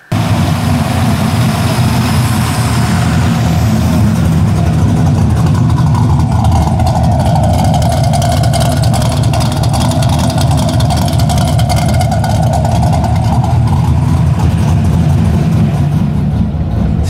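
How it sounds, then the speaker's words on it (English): An LS1 V8 swapped into a Nissan 240SX idles high with the throttle position sensor faulty, a loud, close, unbroken engine drone whose pitch swells slightly in the middle before settling back. "It will idle like crazy, like super high if we don't have TPS unplugged."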